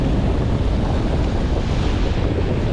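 Strong wind buffets the microphone over rushing sea waves off Koh Phangan, where two seas meet. The roar is a steady, dense wash with no talking.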